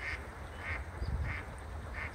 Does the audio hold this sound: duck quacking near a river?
yes